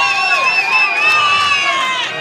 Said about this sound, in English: The Clayton crowd get up behind us.